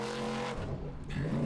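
Supercharged Formula Offroad race car at an Icelandic off-road competition in Akureyri, its engine droning loud and close with a steady throaty roar, briefly dipping before surging again.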